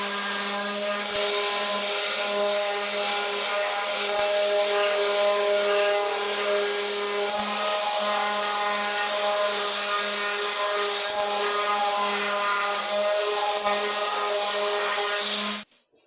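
A wooden jewelry box tray made from pallet wood is sanded, giving a loud, continuous abrasive hiss with a steady whine that holds for about fifteen seconds before stopping abruptly.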